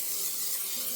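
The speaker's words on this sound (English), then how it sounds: "I'm going to go ahead and use some cooking spray, and I'm going to just spray" Cooking spray hisses from a can onto a glass baking pan in one continuous, close, fairly loud burst with no talking.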